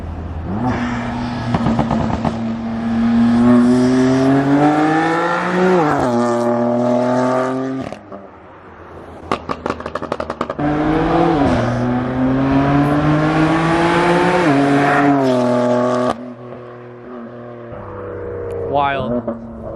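A BMW F80 M3 with a new exhaust revs and accelerates nearby in repeated loud, rising pulls with brief pauses and crackles between them, while people talk close by.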